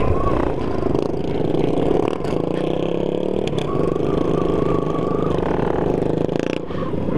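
Dirt bike engine running steadily on a muddy dirt trail, a continuous loud drone with slight revving and scraping clatter throughout, close to the rider.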